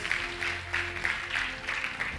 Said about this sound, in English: Let us clap for Master Jesus.